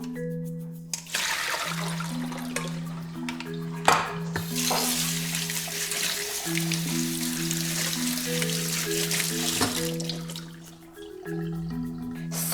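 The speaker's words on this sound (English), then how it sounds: "so I am going to drain and rinse with cold water." Boiled edamame are drained and rinsed under cold running water in a kitchen: a steady splashing rush of water with clattering pot and colander noises, near and continuous for several seconds.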